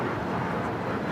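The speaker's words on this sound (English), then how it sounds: "the 787-9 Dreamliner heading for a south side takeoff" A United Boeing 787-9 Dreamliner taxis toward a south side takeoff at LAX, its engines a steady, continuous roar at moderate distance.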